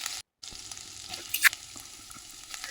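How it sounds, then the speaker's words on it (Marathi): Onions sautéing in a pan for a pigeon pea paratha filling, a steady close hiss and sizzle with light stirring scrapes and one brief sharper clink partway through. "कांद्याला छान परतवून घ्यायचं आहे."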